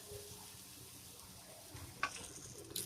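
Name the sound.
eggplant frying in oil with turmeric and salt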